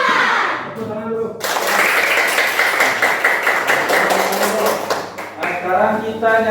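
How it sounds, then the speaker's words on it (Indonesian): Classroom children clap their hands together in a steady, dense patter lasting several seconds, with a teacher's voice speaking before and after the clapping. "Tepuk tangan dulu."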